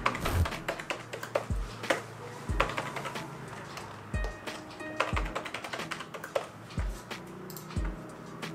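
Someone types on a computer keyboard with a steady run of close, soft key clicks, punctuated by several heavier thumps of larger keys spaced irregularly throughout.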